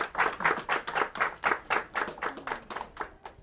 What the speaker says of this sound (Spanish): Un aplauso a la maestra y muchísimas gracias, maestra.